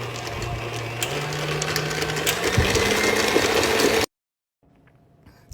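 An electric mixer whirs through chocolate chip cake batter, a steady close motor whine that shifts pitch slightly for about four seconds before cutting off abruptly, leaving near silence.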